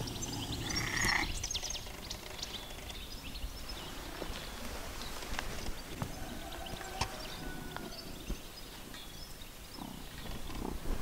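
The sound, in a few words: cat vocalizing, sounding like frogs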